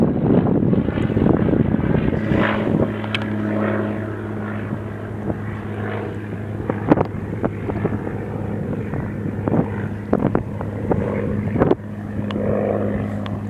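A seaplane passes directly overhead a lake, its propeller engine droning loud and steady throughout with a low rumbling hum and wind buffeting.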